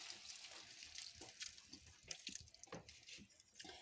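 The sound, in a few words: water poured into pan of cooking potato cauliflower sabzi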